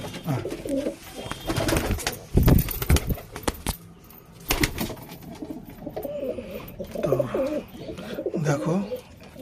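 Pigeons and young pigeon chicks coo repeatedly in low, rolling calls, close by, with a few sharp bursts of noise in between and some murmured voices.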